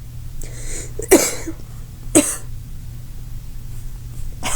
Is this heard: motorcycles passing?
no